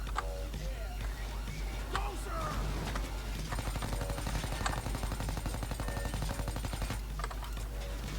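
Gunfire in the video game Payday 2, rapid automatic shots crackling almost without pause over a low constant rumble, the firing thinning out toward the end.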